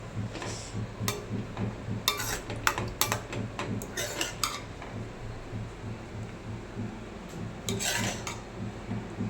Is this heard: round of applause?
no